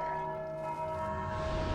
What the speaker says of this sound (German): Hör ich da immer noch eine Glocke?